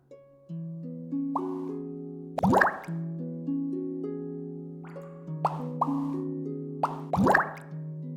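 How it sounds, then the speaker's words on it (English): Bubbles plopping in the video game Servant of the Lake, several distinct wet bloops popping over sustained tonal game music, spaced irregularly and fairly prominent. "Oh, the bubbles, the dot shows which way they're gonna go."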